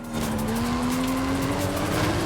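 A Porsche sports car in Forza Horizon 5 drives past with a loud, steady engine drone whose pitch slowly climbs, with tire noise underneath and no one talking.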